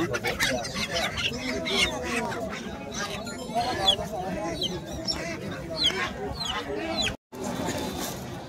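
Household chickens and ducks cluck and squawk at a rural village market in Bakshiganj, with overlapping calls close by beneath steady talk from people nearby.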